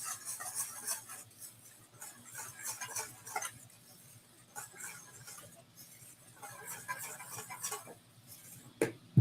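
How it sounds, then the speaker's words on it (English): Ingredients whisked together in a bowl in a home kitchen, a quick rhythmic ticking and clinking of wire against the bowl in repeated bursts, fairly faint and close, ending with a louder clank. "I'm going to take my whisk and whisk these ingredients together"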